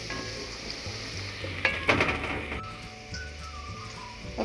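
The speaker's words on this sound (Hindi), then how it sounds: "अब प्याज और लहसुन फ्राई हो गए" Onion and garlic fry in a pan for a village-style aloo baingan dish, giving a steady close sizzle throughout with a few louder crackling bursts partway through.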